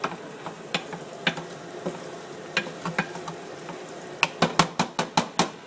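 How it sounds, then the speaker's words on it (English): Onions cooking in a home kitchen pan, a soft steady sizzle punctuated by sharp clinks and scrapes of a utensil against the pan, with a quick cluster of taps near the end. "The onions and stuff is cooking."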